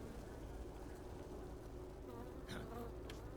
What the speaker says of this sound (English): The bees! The bees!